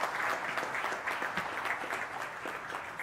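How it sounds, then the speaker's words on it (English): An audience at a national management convention gives a steady round of applause, dense clapping at moderate level throughout, slightly distant in a large hall. "please put a big round of applause for it"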